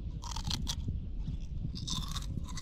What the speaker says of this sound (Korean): 근데 약간 바삭바삭한 게 먹을만은 해